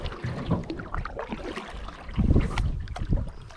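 A canoe paddle dips and pulls through river water in uneven strokes, with splashes and hull knocks close to the microphone amid light wind noise.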